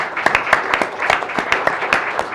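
Law review conference audience applauding a panel, a sparse, fairly light patter of individual claps with distinct hand strikes.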